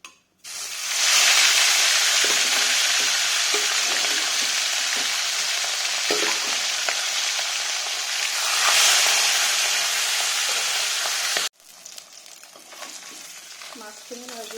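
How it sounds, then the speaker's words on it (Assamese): Chitol fish frying in hot mustard oil in a kerahi, a loud, steady sizzle that holds from the start and cuts off abruptly near the end, leaving quieter kitchen sounds. "তেল গৰম হৈ গৈছে, মই এতিয়া মাছখিনি ভাজি ল'ম।"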